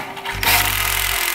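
A pocket hole jig drill bores into wood for a bus conversion bed frame, starting abruptly and running as a loud, steady, close buzzing whir.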